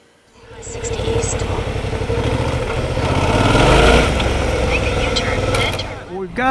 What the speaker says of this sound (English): We're taking a ride down the highway here.